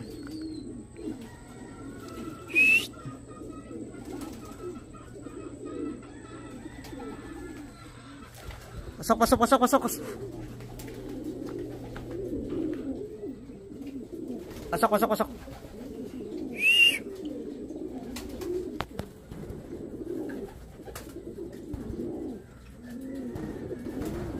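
Racing pigeons coo softly and steadily at a loft during a derby, a low continuous murmur with a few sharper bird calls rising above it and people talking nearby.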